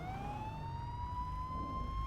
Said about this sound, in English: Stop the sirens, please.